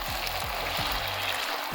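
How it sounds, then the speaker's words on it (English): Potatoes and chorizo cooking in a pan while being stirred, a close steady sizzle with a few soft scraping strokes of the utensil, no voices. "We're just gonna stir it. And let those potatoes cook."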